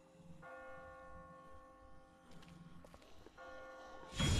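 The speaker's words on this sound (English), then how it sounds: "I just got spooked by those bells" Church bells in The Walking Dead video game ring in slow, sustained tolls that hang and fade in a quiet scene, with soft footsteps and a louder rustle at the end.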